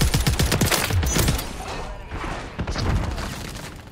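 Gunfire in a first-person shooter video game, rapid bursts of shots and thuds crowding the first half, then scattered sharper reports, close and loud, with a voice speaking briefly underneath.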